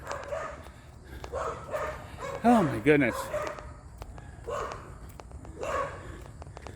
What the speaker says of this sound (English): this house up here has a couple of little yappy dogs in the backyard, and I'm sure you can hear them